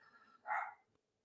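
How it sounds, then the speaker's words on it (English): A dog barking once, a short sharp bark that sounds slightly distant and muffled, with faint room noise before it and silence after. "both of the dogs are going off apparently"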